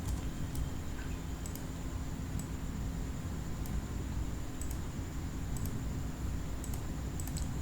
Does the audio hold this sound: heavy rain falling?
no